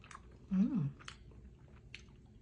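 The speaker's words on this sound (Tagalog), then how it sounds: "Tikman natin itong adobo." Chewing of adobo made with eggplant and jalapeno peppers, a soft squishy burst of close mastication lasting about half a second, with faint clicks before and after.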